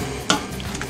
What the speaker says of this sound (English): add some butter right to it, or a lot of butter, and stir that right in